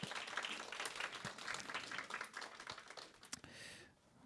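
A congregation at a university group worship service claps for a regional leader being introduced. The applause is soft and fairly distant, with scattered hand claps that fade out near the end.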